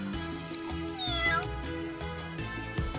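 A cat in a busy cafe gives one short, rising-then-falling meow at mid-distance over steady background music.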